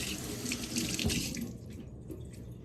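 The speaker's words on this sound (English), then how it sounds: "Let me wash up a bit." A kitchen tap runs steadily into a sink while someone washes up mid-way through making apple fritters, close and continuous.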